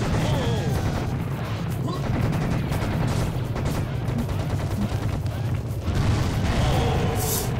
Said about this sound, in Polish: O, żem wybuchł ładnie